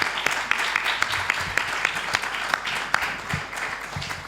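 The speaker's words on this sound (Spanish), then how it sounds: "se merece un aplauso" Audience applause for an award-winning historical novelist at a round-table event, a steady wash of many hands clapping throughout, moderately loud in a hall.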